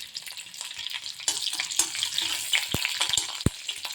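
Garlic, torn green chili and dried chili frying in oil in a pan, a steady close sizzle with a few sharp pops and light stirring clicks, no talk.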